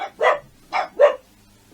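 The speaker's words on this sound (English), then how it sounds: "Sorry for the dogs." Dogs bark indoors at home: three loud, close barks in quick succession, two grouped together after the first, with a short tail of quiet afterward.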